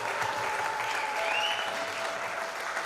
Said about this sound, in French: Est-ce qu'on peut très bien applaudir pour les mariés qui ont fait leur entrée dans la salle?